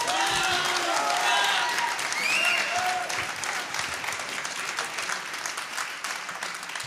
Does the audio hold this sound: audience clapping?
yes